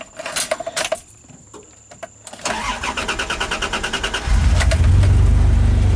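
A first-generation Ram pickup truck that has sat unused cranks with a rhythmic starter whir after some keys and clicks, then its engine catches and settles into a loud, rough low idle close by.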